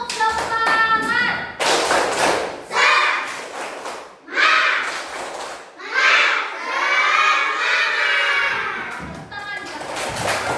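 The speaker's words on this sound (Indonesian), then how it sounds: "Kalau sudah capek, tepuk semangat dulu buat yang terakhir." Classroom of schoolchildren doing a rhythmic spirit clap, loud bursts of patterned clapping alternating with shouted chants, a teacher's voice leading between the rounds.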